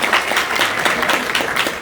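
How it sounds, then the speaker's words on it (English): Applause from a crowd at a city council swearing-in ceremony, a dense burst of many hands clapping close by, sustained and even for the whole moment. "Let's give Brian a round of applause."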